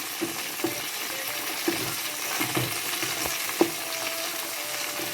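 Squid frying in a pan on medium heat for a squid and potato curry, giving a steady, close sizzle with occasional soft clinks and stirring taps scattered throughout.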